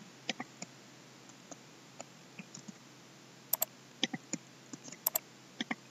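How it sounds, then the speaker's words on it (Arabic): Keys on a computer keyboard are tapped one at a time as a password is entered, producing sparse, quiet clicks in an irregular rhythm over a faint background hiss. "ثم تفضيلات قم بتغيير كلمة المرور نكتب الكلمة الحالية"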